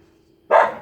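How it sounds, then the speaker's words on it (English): Dogs bark once in the background, a single short and fairly loud bark breaking the quiet. "Of course, going to have the dogs bark in the background now."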